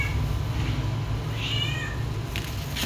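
A hungry cat meows once, faint and brief, over a steady low hum in an indoor setting.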